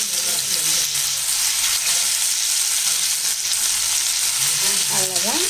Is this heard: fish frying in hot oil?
yes